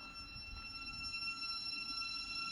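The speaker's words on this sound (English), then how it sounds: "This train is now ready to depart." A train pulls away from Elstree & Borehamwood station, its steady rumble and faint wheel squeal carrying at moderate distance with no one speaking.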